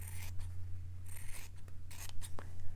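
Scissors snip through a fabric square being trimmed for embroidery, several short crisp cuts in small bursts with pauses between, close and fairly quiet over a steady low hum.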